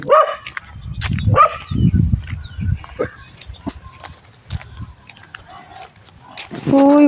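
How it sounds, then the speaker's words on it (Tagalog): A dog barks in short repeated bursts at a hillside spot in Tapon, Bagasawe, Tuburan, Cebu, Philippines, with people talking around it and a few louder barks near the end. "O, tingnan mo yung tumatahol-tahol."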